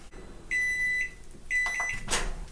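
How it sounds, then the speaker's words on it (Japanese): A microwave oven finishes heating Family Mart shrimp chili and shrimp mayo with two long, steady electronic beeps about a second apart, followed by a faint rustle. "エビチリソースとエビマヨがレンジでチンできました。"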